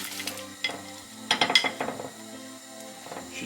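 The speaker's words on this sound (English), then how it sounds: "That's a good sizzle." French toast frying in a hot pan in a home kitchen, a soft steady sizzle with scraping and clicking from utensils moving the bread, fairly close and moderate in level, no talking.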